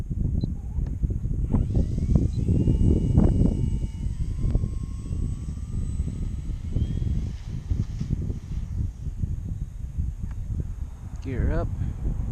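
A model airplane takes off and flies on a windy day, its engine a steady buzzing drone throughout with wind buffeting, while someone talks over it intermittently.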